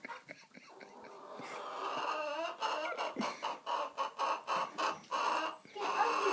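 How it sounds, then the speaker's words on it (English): A pet chicken clucking close by in a backyard coop, a series of short rhythmic clucks repeating steadily through the second half after a softer rustling start. "Here, chicken."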